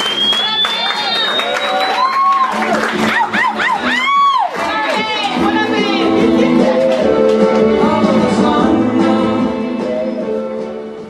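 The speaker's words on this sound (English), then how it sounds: "Now I want you to clap loudly and enthusiastically for the last poem you'll hear from Abe Becker tonight." Audience at a literary poetry slam cheering, whooping and clapping for a poet, a dense, loud crowd roar with shrill whistles and yells, sustained throughout.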